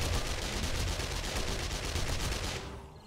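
Rapid automatic gunfire in a zombie survival shooter's night horde, a dense, loud, evenly spaced burst of shots running for nearly three seconds before cutting off.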